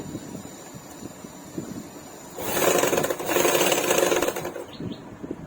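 Sewing machine stitching a folded hem on a blouse, a steady mechanical whir running for about two seconds mid-clip above a low ambient background.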